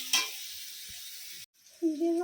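Ginger garlic paste hits a hot pan in a village kitchen and sizzles with a bright, steady hiss, which cuts off abruptly before a voice begins speaking.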